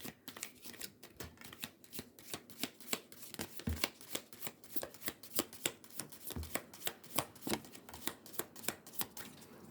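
Tea leaf fortune cards being shuffled by hand, a quick, even run of soft riffling slaps repeating across the whole stretch, close and fairly quiet, with no voice over it.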